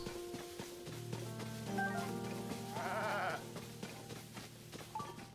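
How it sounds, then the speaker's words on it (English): White goats bleat in The Legend of Zelda: Tears of the Kingdom, several wavering game-animal calls layered over soft background music, with one louder quavering bleat rising in the middle. "Found the goats."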